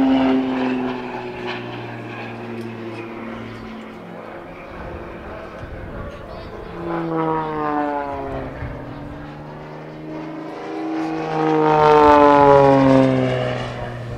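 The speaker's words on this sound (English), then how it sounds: "you can see it here doing a torque roll, using the torque of the engine to rotate the aircraft even with zero airspeed" Extra 300 aerobatic propeller plane performing a torque roll at an airshow, its engine droning and shifting in pitch with sweeping harmonics that swell louder near the end, heard at a distance beneath a voice talking.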